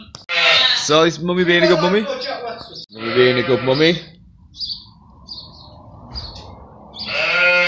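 Sheep in a barn, including a small black, fluffy-faced lamb, give short bleats mixed in with close, chatty talk from a woman, with faint chirps in the background.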